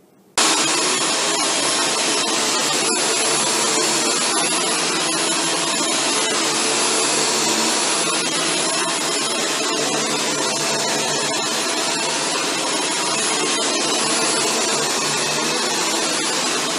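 Shark Stratos upright vacuum cleaner running steadily on deep pile carpet, a loud continuous broadband whir and hiss that starts abruptly and holds level throughout with no talking.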